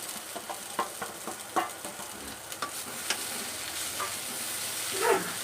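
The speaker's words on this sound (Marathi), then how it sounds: "याच्यामध्येच मी हे बटाटे आपण शिजून घेतलेले परतून घेणार आहे मी" Boiled potatoes are sautéed in a pan for sabudana khichdi, with a soft, steady sizzle under a rhythmic series of light spatula scrapes and taps, fairly quiet and without speech.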